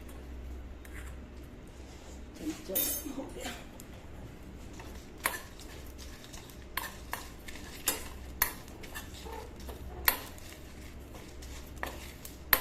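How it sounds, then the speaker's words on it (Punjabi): Whole red chillies, fennel, carom seeds and cumin dry roasting in a pan over a low gas flame, heard as scattered clinks and scraping taps of stirring, fairly close and sparse. "ਲਾਲ ਮਿਰਚਾਂ ਸੌਂਫ ਜਮੈਣ ਤੇ ਜੀਰਾ ਇਹਨਾਂ ਨੂੰ ਆਪਾਂ ਸਾਰੇ ਨੂੰ ਰੋਸਟ ਕਰ ਲਾਂਗੇ"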